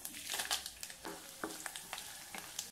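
Mustard seeds, urad dal and fenugreek seeds fry in hot oil for Chettinad vathal mandi, crackling and popping faintly in a quick scattered patter over a soft sizzle.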